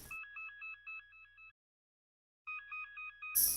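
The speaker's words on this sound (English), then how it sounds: "Got these little cell phone noises." Synthetic cell phone noises in a music production, a rapid trilling electronic ringtone pattern repeating in two bursts with a short silence between, clean and alone.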